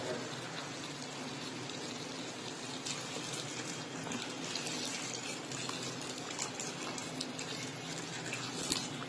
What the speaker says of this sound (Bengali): এবার এতে একটু গরম জল অ্যাড করবো